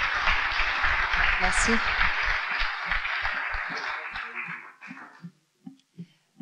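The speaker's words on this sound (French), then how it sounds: "On peut les applaudir pour ce beau projet." A conference audience applauds in a steady, dense burst of clapping that fades out after about four seconds, with a speaker's voice heard during and after it.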